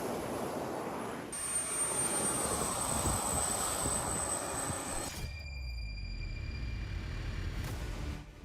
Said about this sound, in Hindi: ये 5वीं पीढ़ी का स्टेल्थ फाइटर जेट है जो दुश्मन के रडार को चकमा देकर हमला करता है।